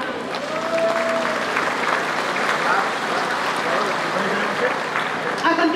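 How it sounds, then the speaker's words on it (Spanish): Dense, sustained crowd applause at an annual patronal festival and jaripeo in Santa María Velató, loud and continuous throughout with faint voices mixed in. "para quien pido un fuerte aplauso"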